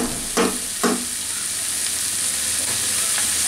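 Bottle gourd peel mixture frying in a pan gives a steady, close sizzle, with two quick stirring scrapes near the start and fainter strokes later.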